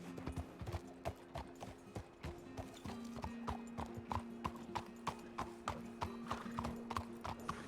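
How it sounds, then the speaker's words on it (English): Many horses in the RedM video game, their hooves clip-clopping in a busy irregular rhythm of sharp hits, with a sustained tonal hum underneath and occasional whinnies, moderately quiet overall. "Oh my goodness, there's so many horses here."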